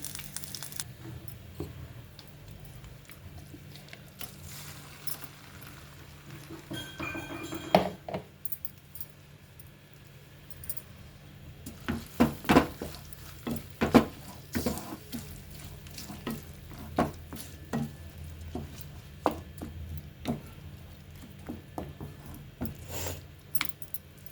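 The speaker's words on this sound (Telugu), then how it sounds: "ఇప్పుడు పోపు వేసేసుకుందాం" Soft sizzling of a spice tempering in a hot pan for an eggplant-tomato chutney, with scattered clicks and clinks of a spoon, fairly quiet and close, without speech.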